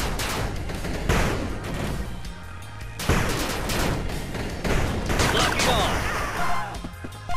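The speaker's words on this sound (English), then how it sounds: "Rocket launch." Rocket launches and combat in the retro-styled strategy game 8-Bit Armies: repeated sharp blasts and whooshing bursts, fairly loud and clustered, over a busy bed of gunfire and explosions, with short unit voice lines mixed in.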